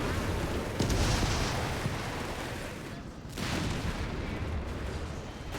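Supporting artillery fire in the Company of Heroes 3 battlefield, heavy rumbling booms and crackling blasts rolling continuously with two sharper bursts, loud and dense without a break.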